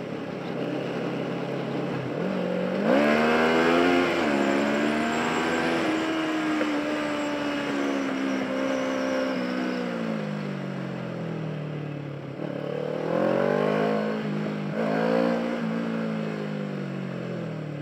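A Kawasaki Ninja motorcycle riding on the road, its engine a steady rising and falling whine with gentle throttle swells and shifts, close and continuous over wind noise.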